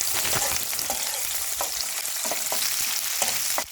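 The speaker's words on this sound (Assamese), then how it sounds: "পিঁয়াজখিনি 1 মিনিটমান ফ্ৰাই কৰি লৈ" Chopped onions and a bay leaf fry in hot oil for a home-style rajma dish, giving a steady close sizzle with occasional soft scrapes of stirring.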